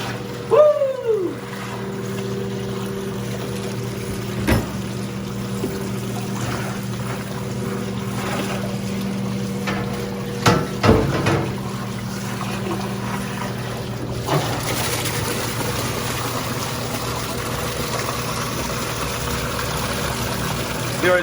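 A produce washing machine agitates water around kale and celery, giving a continuous churning, sloshing rumble with a steady motor hum and occasional splashes and knocks.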